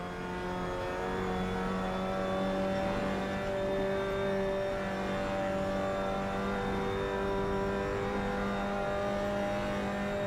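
Mazda Miata engine held at steady high revs through a lap of a race track, a loud, continuous droning whine with shifting harmonics and no talk over it.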